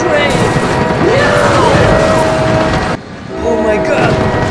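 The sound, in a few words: train crashing into truck in BeamNG.drive video game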